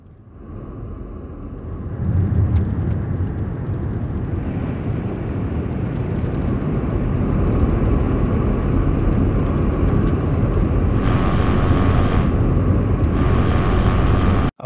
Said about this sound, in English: that sounds a little bit more like we're looking at the outside perspective of the car